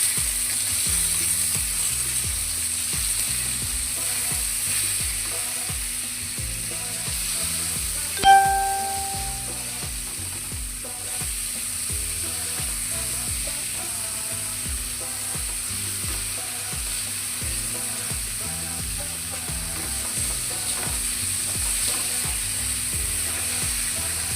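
Turmeric is stirred into eggplant frying in a pan, a steady hissing sizzle that runs unbroken, with one sharp utensil clink partway through and no voices.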